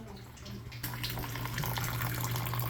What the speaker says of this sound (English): the water's running.